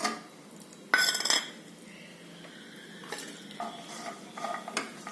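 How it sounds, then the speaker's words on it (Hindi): Nuts and raisins roasting lightly in ghee for sweet corn kheer bring a faint sizzle beneath close clinks and scrapes of a spoon stirring in the pan, including one louder clatter near the start. "हल्का सा इनको भून लेते हैं घी के साथ"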